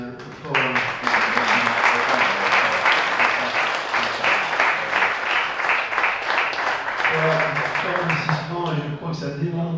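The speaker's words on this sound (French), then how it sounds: "j'aimerais qu'on les applaudisse" Sustained applause from a large audience at an annual bakers' association congress, welcoming the Japanese host delegation. Dense clapping fills most of the span, loud and steady, with a voice speaking over it near the end.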